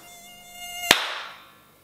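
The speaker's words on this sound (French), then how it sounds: "Moustique tigré." A tiger mosquito whines with a thin, high buzz that swells close to the ear and peaks sharply at about the midpoint, then fades as it drifts away, alone with no talk, near a theme park ticket queue.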